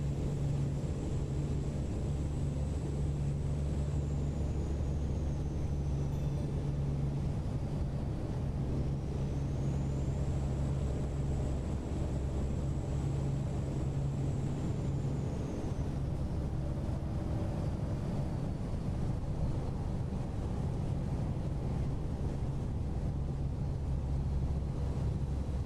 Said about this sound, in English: engine brake toggle goes on